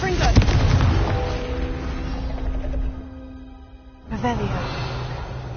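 Confringo spell explosion in the video game Hogwarts Legacy: a sharp fiery burst followed by crackling and rumbling debris, a brief quieter gap, then another blast with game sounds around it.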